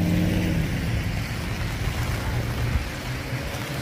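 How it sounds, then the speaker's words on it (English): A car drives along a wet street in night rain, its tires hissing through the water over a low rumbling engine, a steady wash of sound close by, with no talking. "The sound of the rain. On the street, when the car runs on it."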